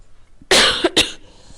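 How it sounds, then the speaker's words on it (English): Two sharp, loud coughs close to the listener, the first longer and rougher, followed by a quieter room. "Now I'm coughing."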